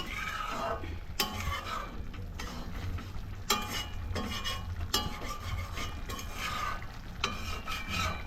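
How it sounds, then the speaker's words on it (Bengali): Spices in a pan stirred with a metal utensil after hot water goes in, giving repeated scraping and clinking strokes over a steady sizzle, close and alone. "ওটা দিয়ে একটু নাড়িয়ে চাড়িয়ে একটু গরম জল দিলাম"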